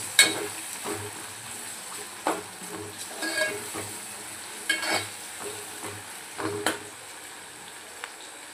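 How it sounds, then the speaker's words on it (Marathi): Onions sauté in a pan for Hyderabadi mutton curry, a steady sizzle broken by repeated stirring scrapes and clinks of a spoon against the pan, close-up with no talk. "कांदा ॲड करूया. छानपैकी असं परतून घेऊया."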